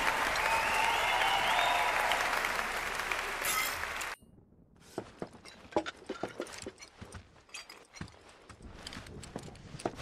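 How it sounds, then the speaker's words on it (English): Crowd applause from the Final Fantasy VII Rebirth video game: dense clapping for about four seconds that cuts off abruptly, followed by quieter scattered hoof clip-clops and small sounds. "gonna need you to clap for the both of us."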